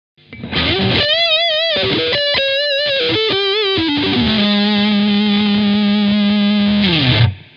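Loud, saturated electric guitar lead through a BluGuitar Amp 1 boost channel, with bent, vibrato-laden notes that settles into one long sustained tone before fading, with no one talking.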